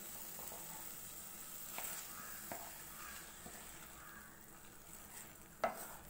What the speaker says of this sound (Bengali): তো এখন এটি ডালটিকে এর সাথে খুব ভালোভাবে মিশিয়ে নেবো।